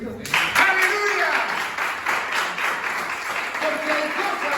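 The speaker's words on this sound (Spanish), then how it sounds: "Después de dar un aplauso a Jesucristo" A church congregation applauds loudly and steadily, the clapping filling the room while voices call out over it.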